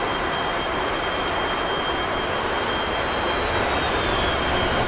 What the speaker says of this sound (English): Scott, there are 2 planes on final.